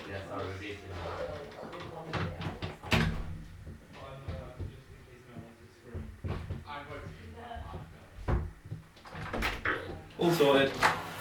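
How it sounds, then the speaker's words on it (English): A door in a home shut quickly, with a couple of sharp knocks and thuds standing out amid shuffling and background voices. "I'm just going to go and quickly shut the door."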